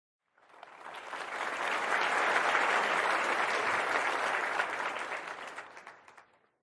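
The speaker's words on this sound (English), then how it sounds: "big round of applause to both of you guys" Applause sound effect during an OOTP 25 Baseball community showdown stream: a crowd claps in a dense, even burst that swells in, holds steady for several seconds, then fades out cleanly.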